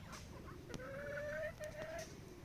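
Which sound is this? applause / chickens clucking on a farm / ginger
chickens clucking on a farm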